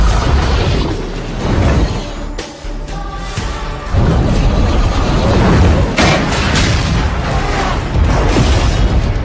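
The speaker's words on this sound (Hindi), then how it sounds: "एक जोरदार धमाके के साथ सान बियाओ और विमान का मलबा राख में बदल गया" Loud movie explosion as a plane wreck blows up, a dense booming blast with rumbling debris and fiery roar that swells in several heavy bursts, filling the whole mix without any voices.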